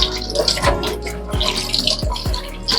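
Lukewarm water running and splashing while a rubber fridge door gasket is washed, a steady close wash with a few soft thumps and knocks, no talking.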